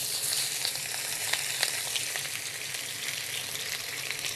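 Shrimp stir-fry in a wok on a BlueStar cooktop, giving a loud, steady, dense sizzle with faint scraping of stirring mixed in, continuous throughout.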